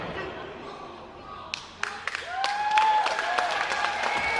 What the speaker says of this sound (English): Matthews firing up our crowd here in the Elgin County Railway Museum